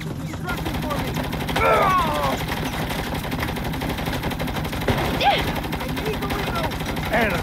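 Rapid automatic gunfire and shots in the video game Saints Row (2022), sustained bursts running through the whole stretch under game music, with louder accents near the middle and end.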